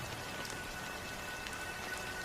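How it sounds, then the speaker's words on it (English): Soft, steady rainfall in the video game Honkai: Star Rail patters on a surface, faint and continuous with scattered individual drops. "But it's still raining."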